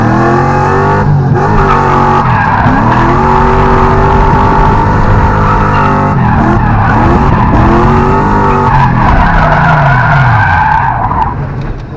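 A drift car sliding hard through a dirt drop at a drift event, its engine roaring loud and close with rising and falling revs over a continuous tire-skidding hiss that fades near the end.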